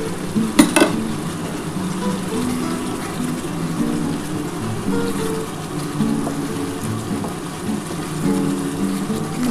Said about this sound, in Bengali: এবার আমি এই চিংড়ি মাছগুলো যে ভেজে রেখেছি এগুলো দিয়ে দিলাম